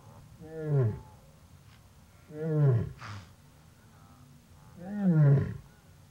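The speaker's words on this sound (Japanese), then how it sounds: "母ライオンは必死に呼びかけます。" Three deep, moaning calls from a mother lion on open grassland, spaced a couple of seconds apart, each swelling and fading, with quiet pauses between.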